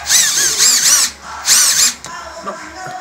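A power drill whirs in two loud, sustained bursts, each lasting about a second, as a heavier screw is driven into a Mitsubishi Space Wagon door panel; a short pause separates the bursts, followed by quieter handling clatter.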